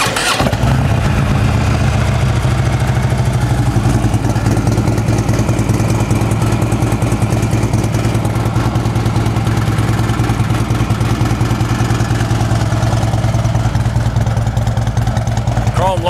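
A used Harley-Davidson Ultra Limited FLHTK touring motorcycle with true dual exhaust fires up and settles into a loud, close, steady idle, its deep rhythmic lope running continuously throughout.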